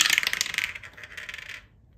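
A small gem dice rolls and rattles briefly on a hard surface, a quick run of bright clicking taps that settles and stops, close and alone.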